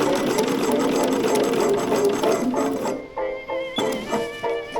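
Sewing machine stitching seams on a Folkwear Poiret cocoon coat, a steady continuous motor whir that breaks into short stop-start bursts of stitching toward the end.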